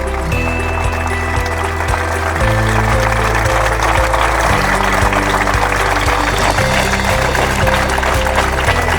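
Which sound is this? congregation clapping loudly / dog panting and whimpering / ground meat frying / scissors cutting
congregation clapping loudly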